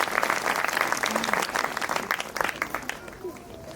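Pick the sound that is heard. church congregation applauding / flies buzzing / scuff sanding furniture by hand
church congregation applauding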